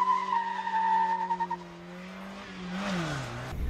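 Rubens Barrichello lapping the Top Gear test track in a reasonably priced car, engine note droning steadily, then fading as the car shifts and passes, with a brief tyre noise near the end.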